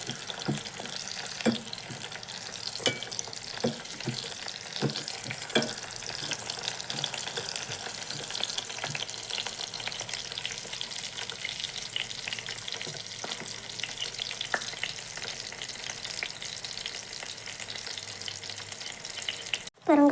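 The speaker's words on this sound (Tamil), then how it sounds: "பூண்டு சின்ன வெங்காயம் கருவேப்பிலை காஞ்ச மிளகா நல்லா கலந்து கொடுங்க வணங்கி வரட்டும்" Garlic, shallots, curry leaves and dried chillies frying in oil for a tamarind curry. A close, continuous sizzle runs throughout, broken by repeated stirring scrapes and ticks, and ends in a sudden knock.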